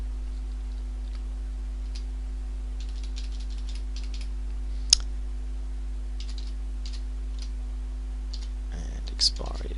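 Keys tapped on a computer keyboard while credit card details are entered into an online booking form, sparse light clicks in short bursts over a steady electrical hum, with one sharper click midway and a brief thump near the end.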